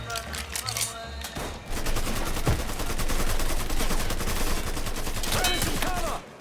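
Rapid automatic gunfire in the Mafia 3 video game, dense bursts of shots rattling loud and close for several seconds, with a brief lull near the start and a voice shouting over the firing.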